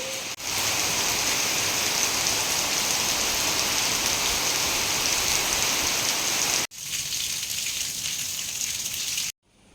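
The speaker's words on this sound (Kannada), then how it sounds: "ದಿವಸ ಮಳೆ ಇರಲಿಲ್ಲ ಇವತ್ತು ಪುನಃ ಮಳೆ" Steady, heavy rainfall hissing continuously on surfaces, loud and close, with a brief break near the end before it resumes.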